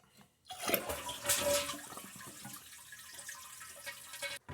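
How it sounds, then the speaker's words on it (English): A household toilet tank drains as it is flushed to empty it during a fill valve repair, a sudden loud rush of water that gurgles and trickles down before cutting off. "I want to empty all the water out of the tank"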